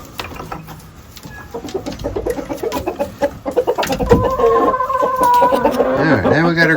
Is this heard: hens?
yes